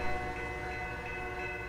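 A BNSF train rolls past in a Roblox game, giving a steady sustained horn tone over a continuous low rumble at even loudness, with no talk.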